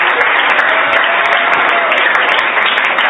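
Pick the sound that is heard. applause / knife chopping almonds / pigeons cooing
applause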